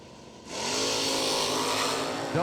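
A Camaro and a 1978 Ford Fairmont launching in a drag race, a loud engine roar swelling suddenly and holding steady at high revs, close and alone with no talk.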